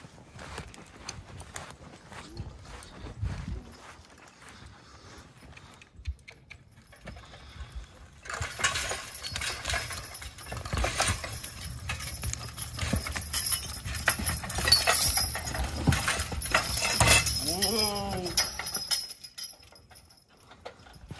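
Horse hooves clip-clop steadily with jangling harness as horses drag a cherry log, growing louder and busier midway, then settling before the end.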